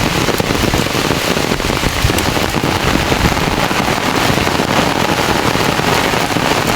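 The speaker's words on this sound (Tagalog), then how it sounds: "Yan guys, malakas ang ulan." Heavy rain pours over an open farm field, a dense, loud, continuous hiss and patter of drops striking the ground and nearby surfaces, with no talk.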